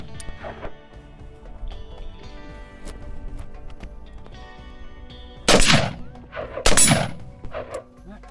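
Two sharp, loud gunshots fired at a target from 20 yards, roughly a second apart near the end, over a quiet outdoor background with faint earlier knocks.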